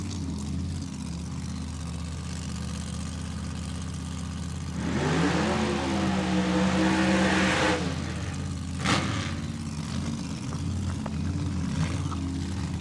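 An alcohol funny car makes a drag racing run at a cornfield racetrack, its engine roaring up loudly for a few seconds and then cutting away over a constant low background hum, followed by a brief sharp burst.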